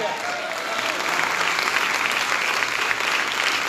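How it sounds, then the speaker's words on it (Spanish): Church congregation applauding loudly during a sermon, a dense continuous roar of many hands clapping at once, close and steady for the whole stretch with no clear speech over it. "hoy tú le estés aplaudiendo y dándole gloria y honra"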